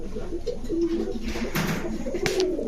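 A female grizzle racer pigeon coos in a loft, soft low rolling coos near at hand, broken by a couple of sharp rustling flaps or knocks.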